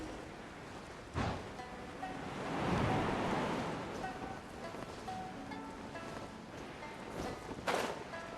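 Ocean waves in Genshin Impact: a soft wash of surf swells and fades in the middle, with wind-like hiss throughout and a couple of brief sharp bursts.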